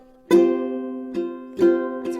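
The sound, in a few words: muted strum down on ukulele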